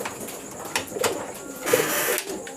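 Male pigeon from an Indonesian loft cooing softly in a few low, rolling calls amid faint background noise and rustling.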